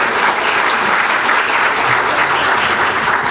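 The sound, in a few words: audience round of applause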